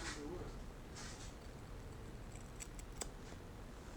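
Freshly sharpened hair shears snipping through hair, a few quick, faint crisp cuts close by against a soft background hiss, with no one speaking.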